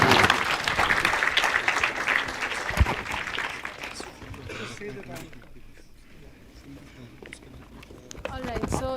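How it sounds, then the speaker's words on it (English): Audience applause for a speaker at a quantum mechanics lecture series, loud and full for about four seconds before thinning out and fading while people begin talking. "Let us thank the speaker once again with a round of applause"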